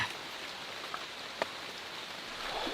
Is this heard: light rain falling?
yes